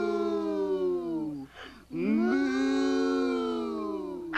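A human voice imitates a cow with two long, drawn-out moos, each swelling and sliding in pitch, separated by a short breath, loud and close.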